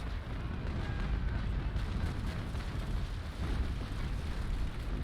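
Ship cannon fire in the naval battle game Naval Action, a continuous rumbling roar of broadside blasts blending into a dense, loud wash without clear separate shots.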